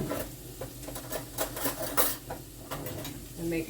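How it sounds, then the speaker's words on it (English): Ingredients for a meat pie being mixed in a bowl, a steady run of soft scraping and clinking of a utensil against the bowl, close and continuous. "So we're just gonna mix that around. Let's mix it all up in there."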